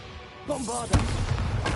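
A Bombarda spell explosion in the Hogwarts Legacy video game: a brief tonal casting swirl followed by a sharp thudding blast and lingering rumbling crackle, fairly close and loud.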